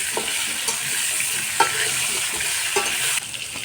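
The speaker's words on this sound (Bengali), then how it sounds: "আলুগুলোতে পরিমাণ মতো লবণ দিয়ে ভালো করে আমি একটু লাল করে ভেজে নিচ্ছি" Potatoes seasoned with salt fry in a hot wok, a steady close sizzle broken by several scraping stirs of the spatula against the pan.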